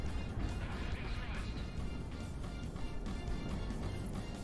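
Missiles strike targets in the Project Wingman combat flight game, producing a continuous wall of loud rumbling blasts and crashes, with a voice talking over the din.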